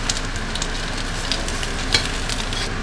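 Chicken skins laid flat in the bottom of a hot wok crisp up with a steady, close sizzle and spattering oil crackle, alone with no talk.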